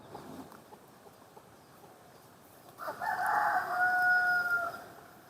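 Desi chickens on a farm cluck softly under faint background noise, then a rooster crows loudly and close in one long drawn-out call near the end.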